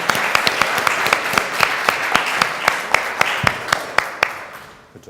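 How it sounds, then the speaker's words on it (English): An audience claps for three panel participants at an entrepreneurship forum, a steady, fairly loud wash of applause with sharp individual claps standing out, fading toward the end. "I would like you guys to give a big applause to these three people who just bravely did it"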